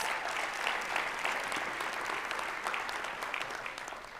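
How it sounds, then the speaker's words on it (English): A crowd at a Martin Luther King Jr. birthday celebration applauds steadily, dense clapping close and sustained without a break, with no voices rising above it. "please give a round of applause"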